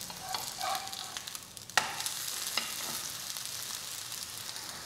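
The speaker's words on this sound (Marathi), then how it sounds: "आता दोन्ही बाजूने थालीपीठ चांगलं खरपूस भाजून घ्यायचं." A poha thalipeeth, brushed with ghee, roasts on a pan with a soft, continuous sizzle, punctuated by a few light scraping and tapping sounds, including one sharp click partway through.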